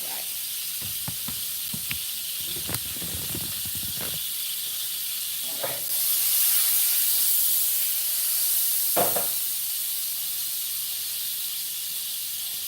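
Butter sizzles in a skillet with a steady hiss, broken by a few soft clatters early on and a brief louder surge of steam in the middle, with no talking.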